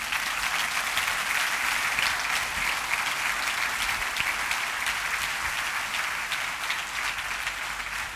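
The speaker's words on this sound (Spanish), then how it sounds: "Ahora sí, denle un aplauso al Señor." A church congregation applauds together, a dense, steady wash of clapping that holds evenly throughout without pause, with no voices rising above it.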